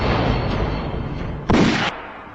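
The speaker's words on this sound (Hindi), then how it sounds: "तुमने हम पर गोलियां चलाई, अपने साथियों पर?" A single sharp gunshot bursts out in a Hindi action film scene, cutting briefly through a constant rushing background hiss.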